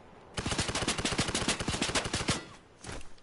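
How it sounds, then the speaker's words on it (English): A rapid burst of purple submachine gun fire in a video game rattles out loud and close for about two seconds, followed by a short second burst after a brief pause. "It's the purple SMG thingy. Yeah, it's the submachine gun."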